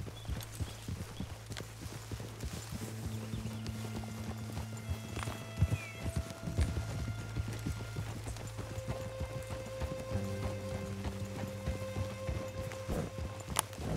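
A horse gallops in Red Dead Redemption 2, its hooves pounding in a fast, steady clip-clop that stays close and loud over a low droning music bed, with an occasional snort.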